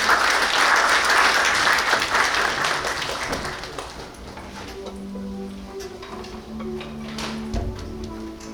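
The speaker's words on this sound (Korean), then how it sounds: "여러분 큰 박수로 환영해 주시기 바랍니다" An audience at a seminar on AI hardware claps loudly to welcome a speaker, a dense roar of applause that thins out and fades over several seconds.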